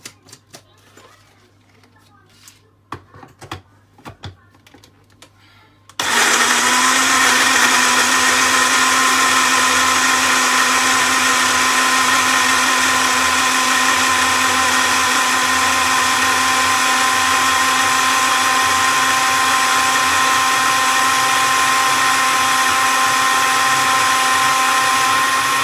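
An electric blender mixing ingredients whirs into life after a few seconds of quiet clatter, then runs at a loud, steady, high-pitched whine without stopping.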